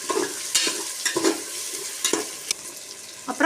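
Mint leaves sautéing in a pan for country chicken biryani, with crisp spatula scrapes every half second or so over a continuous close sizzle.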